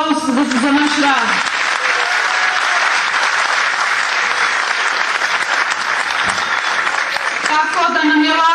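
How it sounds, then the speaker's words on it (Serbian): A crowd at a village promotional gathering breaks into loud, dense applause that holds steady for about seven seconds, with a voice speaking over the start and end. "Ja vas molim jedan aplauz za naš rad."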